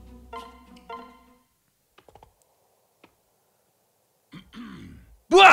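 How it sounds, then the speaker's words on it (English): A Fire Emblem Awakening character clears his throat in short gruff bursts at the start, followed by sparse clicks and a few quiet tones, then a louder vocal grunt near the end. "I like the idea of him just clearing his throat just to let out a bwahaha"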